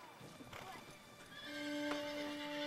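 A competition horse neighs loudly and close, a long whinny rising over the sound of hooves clip-clopping at a show, with voices talking in the background.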